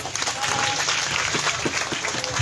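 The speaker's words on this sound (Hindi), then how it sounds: "तालियां बजा दे" Audience clapping at a devotional Hindu jagran, a dense, steady wash of many hands applauding throughout, fairly loud with a lively crowd feel.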